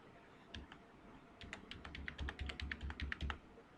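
Quick clicky keystrokes tap on a computer keyboard during a VMware server setup, a short burst of typing close up and fairly quiet, ending with a final key press.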